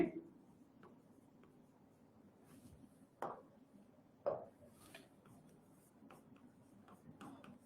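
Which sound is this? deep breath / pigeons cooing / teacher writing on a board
teacher writing on a board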